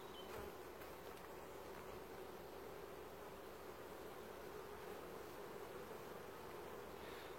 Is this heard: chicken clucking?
no